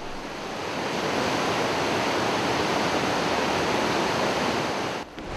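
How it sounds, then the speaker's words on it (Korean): A large waterfall roars where a river overflows, a loud, dense, continuous rush of water that holds steady throughout and dips briefly near the end, with no voices. "잔잔했던 강물이 어느 순간 거대한 폭포로 넘쳐 흐르는 모습"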